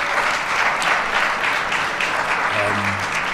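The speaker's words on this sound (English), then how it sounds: "But Walter got his own applause" Applause from an audience at a city council community development grant announcement: a sustained, dense clapping from a crowd close by, steady from start to end.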